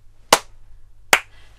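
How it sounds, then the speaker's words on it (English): A pair of sharp, close hand claps, under a second apart, stands out against a quiet room with a low background hum during a music rhythm lesson. "So you can create rhythm by tapping or clapping."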